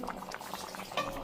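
A covered pot of food boiling on the stove, a steady close bubbling hiss with a brief louder burst near the end, heard alone without talk.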